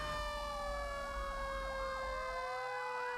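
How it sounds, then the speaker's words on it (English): A fire truck siren wails continuously in Burnaby, B.C., with a loud sweeping electronic yelp over steady horn-like tones and road noise from a passing vehicle. "So here's another fire truck."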